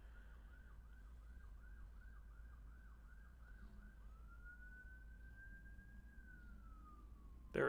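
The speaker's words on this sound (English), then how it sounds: "There is a siren." A distant siren yelps in a rapid repeating pattern, then switches to a long steady wail that slowly falls, faint against quiet background hum.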